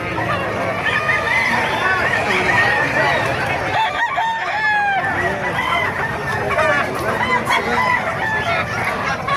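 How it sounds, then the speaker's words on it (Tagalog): Several roosters crow one after another amid steady clucking, with a crowd murmuring and talking throughout at an early-morning chicken market in Bocaue, Bulacan. "Ay, mga manok, oh."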